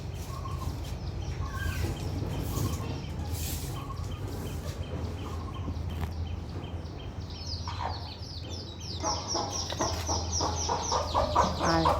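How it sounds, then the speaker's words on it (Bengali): Seven baby chicks being fed on a home veranda chirp in thin, high peeps, continuous and fairly close, becoming busier and more overlapping toward the end. "আর এই যে আমার বাচ্চাগুলো মুরগির আমি খাইতে দিচ্ছি"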